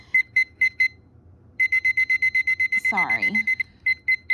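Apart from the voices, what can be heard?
timer alarm beeping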